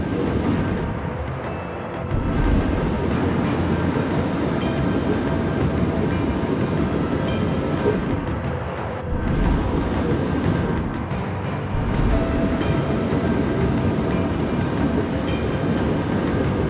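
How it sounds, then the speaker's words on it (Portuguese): A destroyer's engine boost in the naval game World of Warships, a loud continuous mechanical rumble and rushing drone that briefly dips twice before surging back, with no speech. "Impulso do motor ativado."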